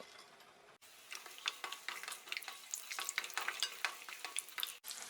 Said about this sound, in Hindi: तो मैं सारे ड्राई फ्रूट्स इसमें डाल रही हूँ और इसे हम 1 मिनट भून के घी से बाहर निकाल लेंगे